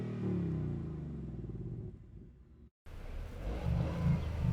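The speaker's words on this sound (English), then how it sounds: "Get a few revs up." A 2021 Toyota GR Yaris Rallye engine revs hard before a launch, a loud, close rumbling growl that dips into a brief lull and cut near the middle, then surges back with heavy acceleration.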